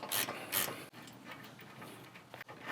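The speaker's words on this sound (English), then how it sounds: "grab a 8 wrench and then we'll hold it in place while we loosen that nut" A wrench loosens the upper ball joint nut on a 2021+ Ford F-150 during a suspension install, producing close metallic clicks and a couple of sharp ratcheting bursts followed by softer grinding turns.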